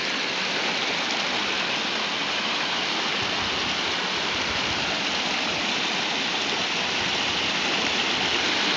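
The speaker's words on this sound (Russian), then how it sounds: "И здесь грохочет поток, который рвется вниз." Waterfall at the outlet of Lake Glubokoye, its stream roaring down through a rocky cleft in a loud, steady, dense rush of water that fills the whole clip without a break.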